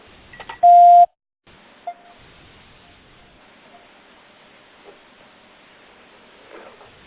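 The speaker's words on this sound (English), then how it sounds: "every time there's a beep, it means someone else has joined." A single short electronic conference-call join beep chimes over a quiet, faintly hissing line, followed by a few soft clicks and near-silence.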